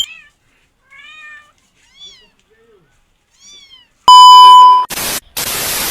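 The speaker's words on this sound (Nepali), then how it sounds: "बिरालाका छाउना क्या दामी म्याउ म्याउ" Several kittens mew in a village setting, four thin, high cries spaced a second or so apart, followed by a loud electronic tone and bursts of harsh noise.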